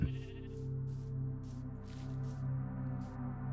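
Sheep in the Minecraft video game bleat in a string of short, evenly spaced, fairly clear calls, heard alone with no talking.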